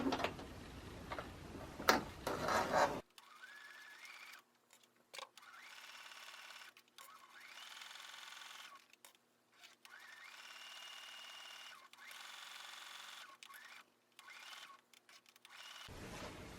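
A sewing machine stitches a zipper onto a fabric pouch in repeated bursts of rapid ticking, pausing briefly between runs, close and fairly quiet, after some louder handling noise at the start.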